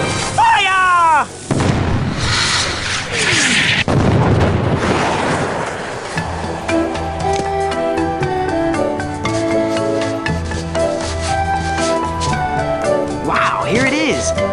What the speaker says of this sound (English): Now roll out the really big cannon and blow up those terrorists this instant!